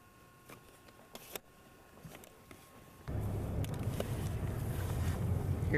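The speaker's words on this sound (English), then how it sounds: "Here we are driving down the road." A car drives along a snowy road in January, with quiet cabin sounds at first, then a louder, steady rumble of road and wind noise that builds to the end.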